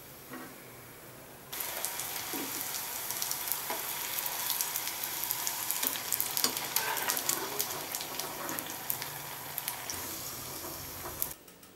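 Pani puri deep-frying in hot oil, a dense steady crackling sizzle that begins abruptly after a quiet opening and runs loud and close until cutting off near the end.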